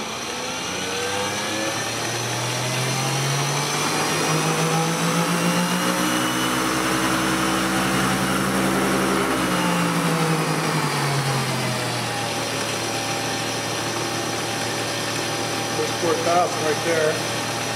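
A rotor spins up on a dynamic balancer for small parts and spindles, a rising whine that holds steady and then winds back down, fairly loud with faint background noise.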